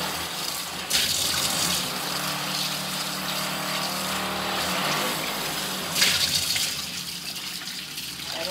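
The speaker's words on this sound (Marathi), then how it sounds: "मच्छी आता पहिल्यांदा धुवून घेते चांगली दोनदा" Karli fish are washed under running water, a steady close gush of tap water streaming into a sink and changing tone as the fish are rinsed, with no voices.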